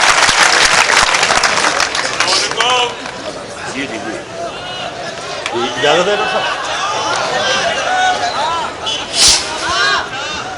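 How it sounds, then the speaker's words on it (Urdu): At a poetry recitation welcoming poet Munawwar Rana, a loud crowd claps and cheers amid busy chatter and murmuring voices, with the applause strongest at the start and voices rising over it later. "میری مراد ہے جناب منور رانا سے تالیوں سے استقبال کی"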